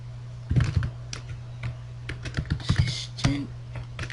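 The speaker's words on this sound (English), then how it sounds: "So type in assistant" Typing on a computer keyboard while entering data into an Excel spreadsheet: quick clusters of close key clicks and taps in uneven bursts over a steady low electrical hum.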